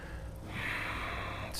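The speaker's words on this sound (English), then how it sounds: "Breathing deeply." A single slow, deep breath drawn during a strong yoga flow class focused on back bends, a soft airy rush that swells and holds for about a second over a quiet room.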